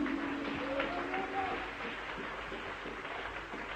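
A church congregation claps and cheers in acclamation of Jesus Christ, a short burst of applause that fades slightly over a few seconds with a faint voice underneath.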